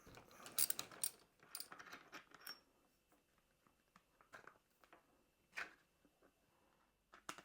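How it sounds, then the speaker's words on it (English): A BMW R1250GS handlebar bar end weight is unscrewed by hand, giving quiet bursts of ratcheting clicks and scraping metal, then sparse faint ticks with pauses between. "undo the bar end weight"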